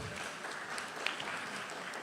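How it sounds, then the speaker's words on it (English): A room of attendees at a small-business procurement boot camp launch claps in a steady, moderately quiet round of applause, continuous and even, with one slightly sharper clap near the middle. "Give her a round of applause."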